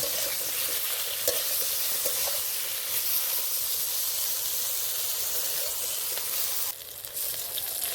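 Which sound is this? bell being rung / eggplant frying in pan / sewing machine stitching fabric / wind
eggplant frying in pan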